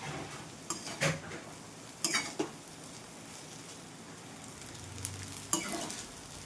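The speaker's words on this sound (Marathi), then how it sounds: "एक दोन तीन मिनटं आपण फ्राय करणार आहे" Chutney frying in a pan while being stirred, a quiet continuous sizzle broken by a few sharp scrapes and clinks of a spoon against the pan, with no voices.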